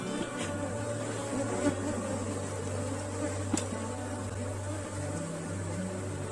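A swarm of honeybees hums continuously around open hive boxes during work at an apiary, a dense, steady drone near and far with a low motor-like hum underneath and no speech.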